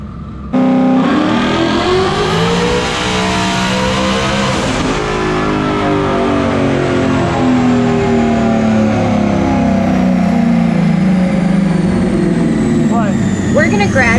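A turbocharged drag race car roars loudly on the dyno, its engine climbing steadily in pitch through a long, sustained rev, close and powerful throughout.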